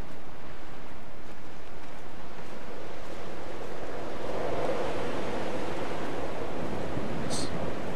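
Steady wind roars and rushes outdoors on a hill in the video game Dear Esther, a constant broad whoosh with no voices, filling the whole stretch at an even level.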